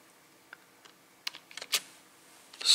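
Keystrokes on a computer keyboard while entering code in a VB Script Editor for Mach3, a few sparse clicks then a quick cluster of taps, close and fairly quiet, with no talk.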